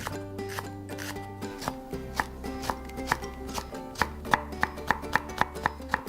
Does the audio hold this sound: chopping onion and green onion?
yes